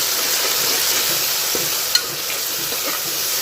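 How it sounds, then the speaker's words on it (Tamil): Tomato and green chilli sauté in a pan with a loud, steady hiss of sizzling oil throughout and one brief clink of the utensil. "இப்போ தக்காளி பச்சை மிளகாய் சேர்த்து நல்லா வதக்கிடுவோம்"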